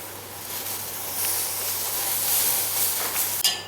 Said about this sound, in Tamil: இந்த கொதிக்கிறது பாருங்கள் எப்படி கொதிக்குதுன்னு